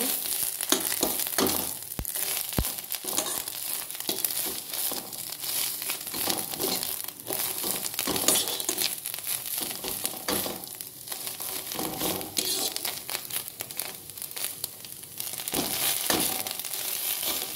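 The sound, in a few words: stirring greens frying in a pan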